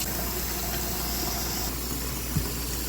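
Hot water is poured and runs into a container of ice from a countertop Igloo ice machine, making a steady, close, broadband rushing splash with a small bump near the end and no talking.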